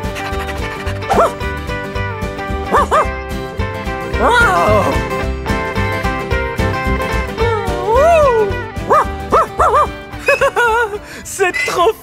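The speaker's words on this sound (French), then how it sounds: "C'est là que les chiens dorment!" Dogs yip and bark in a ranch barn where they sleep, in several short bursts and higher whimpering cries, with music playing steadily underneath.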